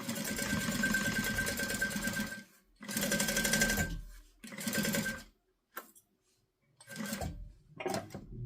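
A sewing machine runs in close bursts while stitching a zipper onto a guitar bag, a steady mechanical whir lasting a couple of seconds at a time, broken by pauses and a few shorter runs.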